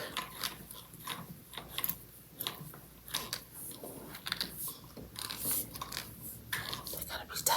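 Parts of a white floor lamp being tightened by hand, with close, irregular clicking, creaking and scraping of the fittings in short bursts over the whole stretch, and faint voice sounds in the background.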